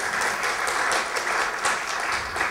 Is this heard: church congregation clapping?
yes